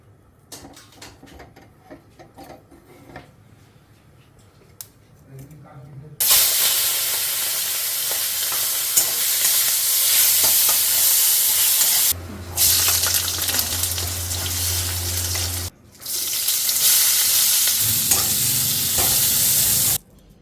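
Food fries lightly in a pan for a Bengali dish with loud bursts of steady sizzling and hissing that cut in and out, separated by quieter stretches with faint stirring and clatter.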